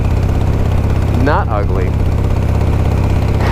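A 29-year-old Harley-Davidson motorcycle idles with a steady, loud, low pulsing throb that runs throughout, while someone speaks briefly over it.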